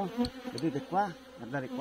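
Honey bees humming around an open hive with a healthy colony, a steady buzzing bed under close Italian speech from a beekeeper pointing at the frames.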